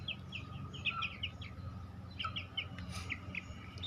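Aseel chicken chicks cheep in quick high bursts, faint and a little distant, over low background noise.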